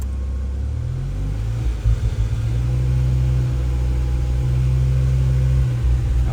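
A BMW M6 V10 engine runs steadily during a Vanos solenoid system test, giving a loud, continuous low idle rumble with a brief wobble near the start and no talking.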